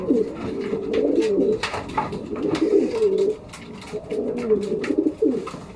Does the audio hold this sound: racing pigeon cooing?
yes